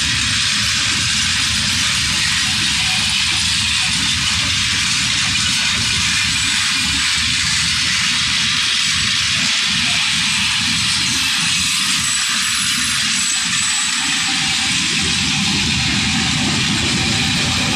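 Rangpur Express intercity train pulling out of Tangail station, a loud, steady low engine drone with rumbling running noise that holds unbroken throughout, no talk.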